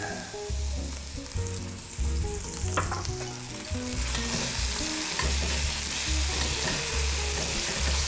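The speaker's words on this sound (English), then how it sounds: "we're going to fry up our chorizo" Chorizo frying in oil in a Dutch oven, a continuous close sizzle broken by rhythmic stirring and scraping strokes against the pot, with no talking.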